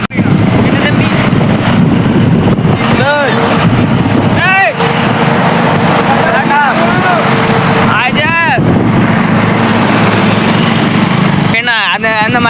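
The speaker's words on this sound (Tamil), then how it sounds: "பாருங்க பாருங்க மொட்டை மாடல நல்லா காத்து வருது." Strong wind roars steadily across an open rooftop terrace, buffeting the microphone with loud, constant rumble while someone talks over it throughout.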